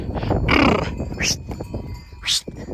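A few short sheep bleats ring out close by in fog, with rustling and footsteps in between.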